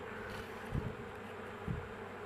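Honey bees hum at close range inside a hive, a soft continuous drone with two faint low thumps.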